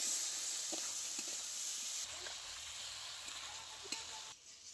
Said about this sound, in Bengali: এবারে খুব ভালো করে সব একসাথে কষিয়ে নেব।